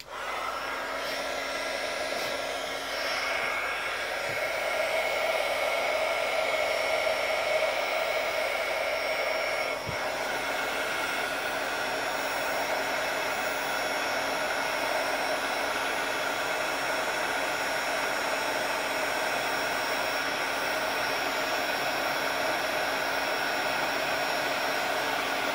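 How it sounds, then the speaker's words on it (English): A heat gun runs steadily for about 25 seconds with a continuous loud blowing whoosh and a high whine, melting embossing powder on a Halloween card. Nobody speaks. "I'm going to warm up my gun and then melt this"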